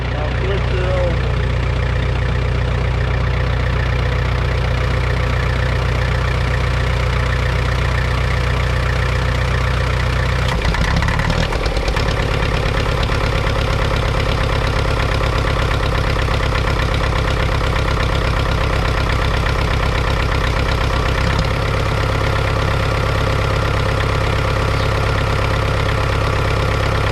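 Super W6TA diesel engine idling after a cold start, a loud continuous low rumble with a steady throb and a brief dip and shift in tone partway through, running alone.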